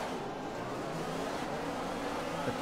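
Formula 1 cars in the F1 2020 video game roar away at a race start, a dense, steady wash of engine noise heard close and loud throughout, with no talking.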